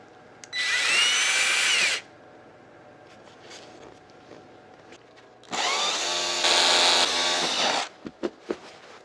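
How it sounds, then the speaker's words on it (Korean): A power drill drives a screw into a plastic wall anchor during a wall shelving install, whirring in two loud bursts of a couple of seconds each, the second longer, followed by a few short clicks and taps. "피스를 이렇게 드릴에 물려 주신 후 칼블럭 안에 이렇게 고정시키신 후에"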